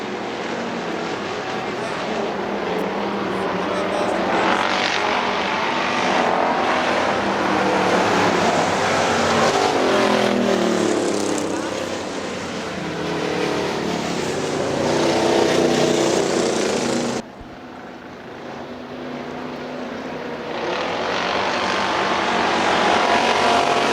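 Factory stock race cars lap Hartford Speedway, a loud sustained engine roar rising and falling as cars pass, with a brief dip near the end before the noise swells again; a voice talks over it.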